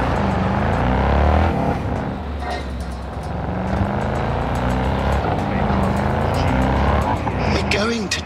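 Car driving hard in the video game Cyberpunk 2077, a loud engine roar with wavering pitch and repeated tire squeals, steady throughout with the engine sweeping up and down.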